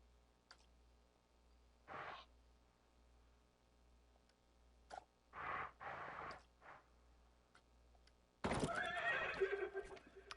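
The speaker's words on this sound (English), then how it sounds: "It makes a horse sound" A horse in the Planet Coaster game gives several short separate whinnies and snorts against quiet, then a loud burst of clip-clop and neighing at the end.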